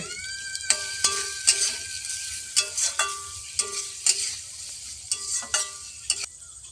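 A spoon scrapes and stirs ground chilli, turmeric, cumin and salt frying in a pan, with a sizzling bed underneath and repeated sharp clinks and scrapes against the pan in an uneven rhythm, close and clear with no talking.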